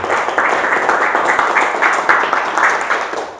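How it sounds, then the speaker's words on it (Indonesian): Classroom students clap their hands together in a dense, steady round of applause lasting several seconds, close and fairly loud, with no talking over it. "Kita beri tepuk tangan dulu untuk kelas"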